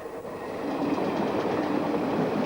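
A suburban train bound for Shoebury rolls past, its rushing wheel noise building from quieter to a sustained loud roar with a faint clickety rhythm.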